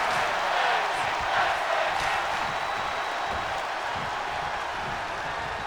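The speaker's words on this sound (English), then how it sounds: "You listen to this crowd T-bone." Crowd noise in the WWE 2K22 wrestling video game, a dense steady roar of a large arena audience with faint calls rising out of it, continuous throughout.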